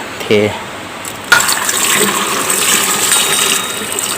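Boiled salt water brine pours and gushes over giant Indian gooseberries in a container, a steady liquid splash that starts abruptly after a brief clink and keeps running.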